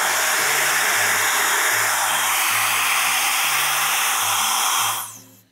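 A Protouch Airshot hair multi-styler with its flyaway attachment blowing hot air, a loud, steady whoosh with a pulsing low hum, running alone before abruptly shutting off near the end.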